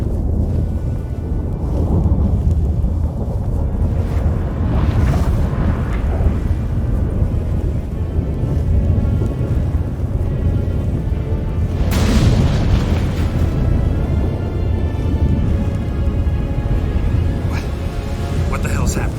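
A magical storm in The Witcher 3: The Wild Hunt's final battle, with continuous heavy rumbling and wind-like roaring and louder booms surging through, under game music and voices.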